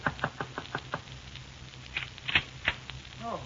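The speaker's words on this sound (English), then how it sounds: "It was exactly 10 minutes to 9 when I knocked on Marvin's door." A door is knocked on in a 1946 radio drama sound effect: a quick run of about six sharp, evenly spaced raps, followed by a few scattered louder knocks and faint shuffling noises.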